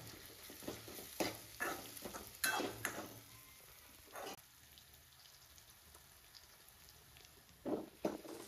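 Onion and tomato cook in a pan for chicken masala, giving a soft, low sizzle broken by intermittent scraping and clattering stirs, fairly quiet and close.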